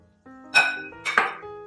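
Sliced onion goes into a cooking pot with two quick clattering hits and a short ringing metallic clink, close and fairly loud, followed by a faint soft sizzle, with no talking.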